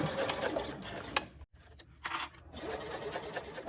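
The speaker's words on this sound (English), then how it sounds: "then I'm going to sew along, making sure that my tape is staying lined up with the edge of my exterior" A sewing machine stitches zipper tape along the edge of an exterior fabric panel, with close, quiet whirring that stops briefly in the middle, gives a few short bursts, then runs on steadily.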